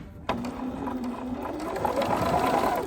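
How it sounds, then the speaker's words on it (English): Sewing machine stitching steadily over pins, a continuous close mechanical whir with a faint underlying hum that runs unbroken after a brief start. "I'm gonna stitch over those pins."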